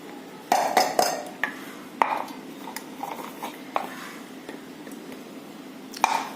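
A spoon stirs jackfruit pickle with pickle masala in a bowl, giving scattered clinks and soft scraping knocks at an irregular pace, close and fairly quiet.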